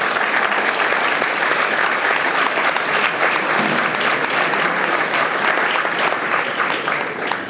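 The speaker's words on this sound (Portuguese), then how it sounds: "Uma saudação especial, umas palmas para Nuno Gaudêncio." A crowd applauds steadily and enthusiastically at a party dinner for militants in Odivelas, dense clapping filling the room without pause from start to finish.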